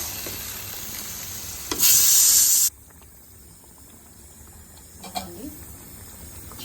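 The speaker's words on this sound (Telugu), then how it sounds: "ఇదో చిట్పట్ మని మొత్తం అంతా ఎగిరెగిరి పడుతుంది." Masala spattering in hot oil, a loud burst of crackling sizzle lasting about a second, then cutting to quieter low sizzling with a couple of faint pops; speech is faintly present underneath.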